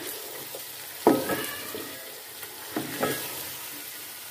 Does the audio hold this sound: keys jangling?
no